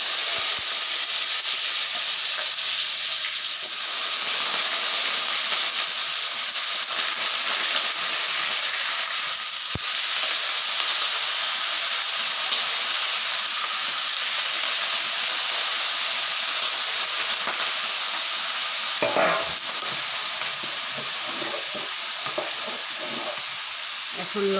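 Bay leaves and black cumin sizzle in hot oil in a pan, a steady, loud hiss throughout with a few soft clatters near the end.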